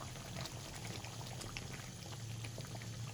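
Chicken korma simmers gently in milk and onions in a covered pot, giving a steady, soft bubbling hiss with faint pops throughout, close by and quiet.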